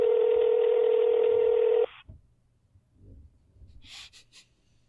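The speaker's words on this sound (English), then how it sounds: "It's ringing." Ringback tone of an outgoing phone call: a single loud, steady electronic ring lasting about two seconds, then it cuts off, leaving quiet breathing and faint room sounds.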